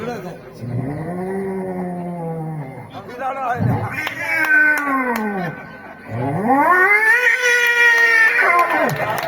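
A human voice mimics two cats squaring off, with drawn-out, rising and falling yowls and growls that swell louder toward the end.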